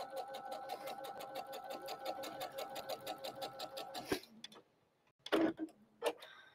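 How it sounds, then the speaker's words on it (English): Sewing machine stitching across a quilted fabric square for a Santa sock, a fast rhythmic clatter of the needle that runs steadily for about four seconds, then stops, followed by a few short quieter handling clicks and bumps. "Do that last stitching across."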